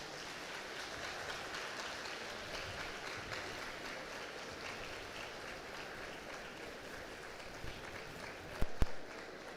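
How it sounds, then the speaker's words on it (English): Graduates at a college passing-out ceremony clap for their parents: steady, distant-sounding applause from a large group throughout, fairly soft, with a couple of sharper knocks near the end. "can you clap for them for a few seconds?"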